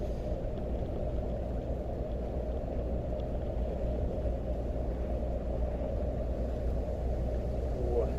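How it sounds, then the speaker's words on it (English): A V8 truck engine ticks over at idle, a low steady rumble close by with a continuous, even throb and no pauses. "just had a nice V8 sound then of it, sort of like tick over"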